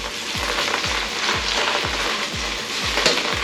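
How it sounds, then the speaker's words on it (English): Tomato paste fries in a hot pan for bacon fried rice, a bright steady sizzle broken by regular scraping stirs roughly every half second, close and moderately loud with no talk. "You want the tomato paste to go in first. It's because you want it to sort of fry"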